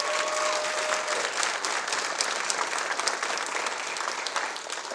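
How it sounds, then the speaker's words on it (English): An audience at a youth leadership awards ceremony applauds, a dense, even wash of many hands clapping that holds steady for the whole stretch and eases slightly at the very end. "I think they need another round of applause."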